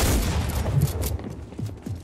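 Gunfire in a Fortnite-style battle royale duo match, with a loud opening burst followed by a few separate sharper shots.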